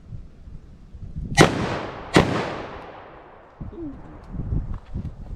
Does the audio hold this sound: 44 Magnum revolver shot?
yes